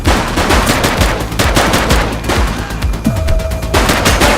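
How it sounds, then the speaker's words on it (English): Rapid, loud gunfire rattles through a shootout in a video game, with dense bursts of automatic shots and no speech. "Light him up! He's shooting!"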